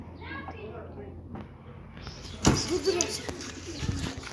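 Soft cooing of pigeons close by, mixed with a voice and some rustling and scraping movement.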